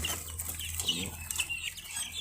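Chirping and clucking of guinea fowl and turkey chicks close by, a busy flock of small birds peeping continuously with occasional louder calls.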